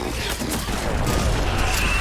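Gunfire from a small handgun in the video game Mass Effect 3, a steady wash of shots and blasts filling the whole moment at close range, with no talk over it.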